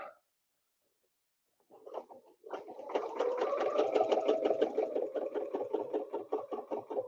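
A domestic sewing machine stitches in quilting ruler work, starting after a brief quiet with a few short bursts, then running in a steady rapid rhythmic whir close by, no talking.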